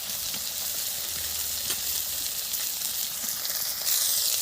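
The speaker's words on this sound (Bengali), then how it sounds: "হালকা করে একটু ভেজে নেব।" Chopped onion and slit green chilies fry in hot oil with bay leaf and dried red chili, giving a steady, close sizzle throughout that swells slightly louder near the end.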